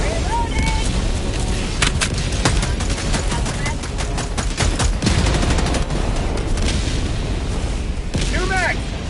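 An orbital barrage in the video game Helldivers 2 brings a loud, dense run of explosions and gunfire lasting several seconds, with sharp blasts stacking over continuous combat noise.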